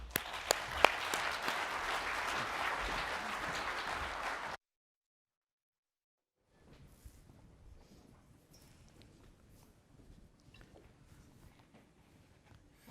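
An audience applauds to welcome speakers onto a stage with dense, sustained clapping. The applause cuts out abruptly, and after a gap a fainter, sparser patter of clapping and movement follows.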